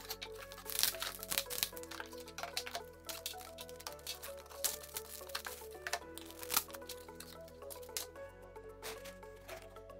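A delivered package holding a wooden picture frame is unpacked, with steady crinkling, rustling and tearing of wrapping material up close, layered over faint background music.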